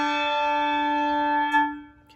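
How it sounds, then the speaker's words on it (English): A Malmark handbell struck once with its clapper on the solid rubber setting rings out bright and loud, a pure sustained tone with a faint second touch near the end as it fades. "if you turn the clapper to the solid rubber setting, that makes the loudest and most bright sound of the bell. I'm going to ring it"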